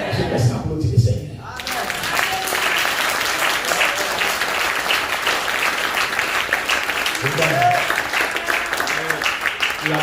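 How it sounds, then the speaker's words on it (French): Worshippers in a church applaud the Lord, sustained dense clapping rising after a brief quieter opening with a voice, and another voice briefly heard partway through over the applause. "Je passe à applaudir le Seigneur"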